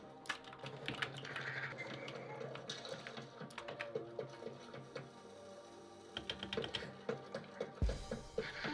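Quiet, rapid clicking of keyboard keys pressed in irregular bursts during PS5 gaming, close by, with a few sharper taps near the end.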